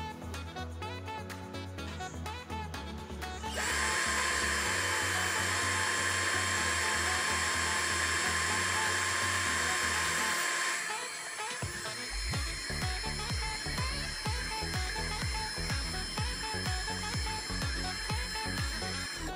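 An Edon LV3-1210 cordless drill runs in drilling mode at speed setting 1, a steady whining motor hum that shifts in pitch partway through and then carries on with a rougher buzzing rattle, close and continuous.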